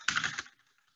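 A short burst of computer keyboard typing while a query is entered from a Google Sheet, a quick flurry of key clicks lasting under half a second that then fades to near silence.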